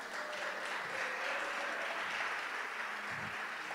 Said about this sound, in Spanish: ¿Le da palmas al Señor por esta?